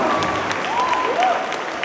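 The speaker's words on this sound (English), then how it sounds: "Let's have a huge round of applause for her." A crowd claps for a Miss Diva 2018 winner during a school felicitation, a short burst of applause with voices and a brief tonal sound mixed in underneath.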